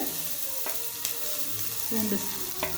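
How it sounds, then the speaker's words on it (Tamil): Hot oil sizzles and crackles steadily as garlic fries, with a few brief clinks of a utensil against the pan. "எண்ணெய் நல்லா சூடாயிடுச்சு. இப்போ வந்து நான் பூண்டு சேர்த்துறேன்."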